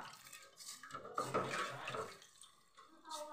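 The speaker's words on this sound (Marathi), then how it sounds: "2 ग्लास टाकून घेतलेलं आहे पाणी." Two glasses of water are poured from a glass into a cooking pot for a vegetable curry, a close splashing gush that rises then fades, with faint clinks of the vessels.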